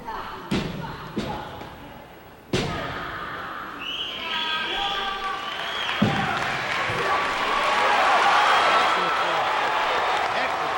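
Thuds and slams from a 1991 martial arts forms competition at The Jet Center, followed by a crowd applauding and cheering in a hall, swelling steadily under a commentator's voice.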